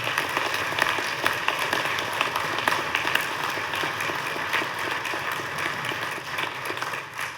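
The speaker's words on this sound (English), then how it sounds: "give him a round of applause" A legislative chamber audience applauds a senator during the Nebraska governor's final Sine Die address, with dense, steady clapping that holds loud and even for the whole stretch, no voices over it.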